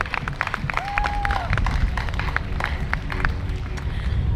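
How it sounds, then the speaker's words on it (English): Crowd applause at an outdoor bandstand rally, a moderate, steady patter of clapping hands at some distance, with a short whistle-like tone near the start. "please, with a big round of applause for the representative of Anakbayan here today"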